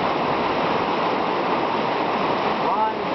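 Continuous broadband roar of rushing river rapids at the Blue Chute on the French River, steady and loud throughout with no clear voices over it.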